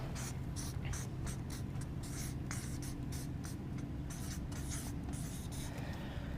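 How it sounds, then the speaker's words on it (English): A pen writes notes on paper in a steady, continuous scratch of strokes, close and quiet, with no voices over it. "I'm going to write that down."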